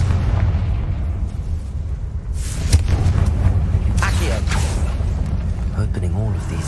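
Confringo blasting spell in the video game Hogwarts Legacy, a booming explosion and rumbling blasts over a heavy low game soundtrack, with a voice calling out during the effects.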